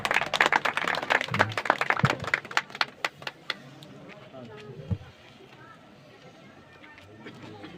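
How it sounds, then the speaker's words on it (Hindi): An audience at an award ceremony in Rath, Hamirpur claps loudly and steadily for about three seconds, then the applause thins to a few scattered claps and fades under quiet room noise. "एक बार जोरदार तालियों से भाई स्वागत किया जाए इनका"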